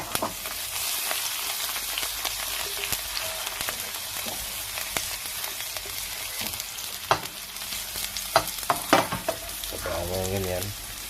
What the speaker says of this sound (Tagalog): nilagyan na natin yung sibuyas at bawang